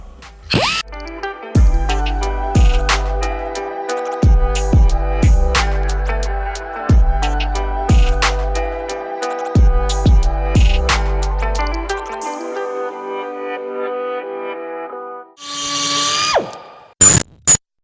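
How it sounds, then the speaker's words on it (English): A power drill reams out mounting holes in BC Racing coilover top mounts for a Seat Ibiza track car, cutting in a steady high whine with repeated bursts and stops, close and loud, ending in a few sharp clanks. "we just ream the holes out"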